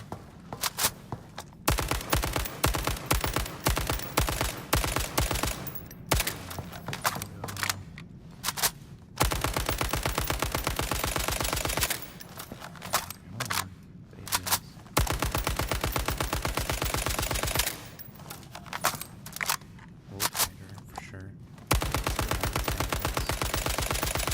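Bursts of automatic rifle fire in the shooter game ALARA Prime, long rapid volleys broken by short quiet gaps, loud and sustained through most of the stretch.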